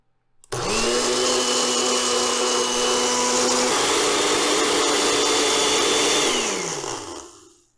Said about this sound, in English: we are going to blend this for about a minute on high speed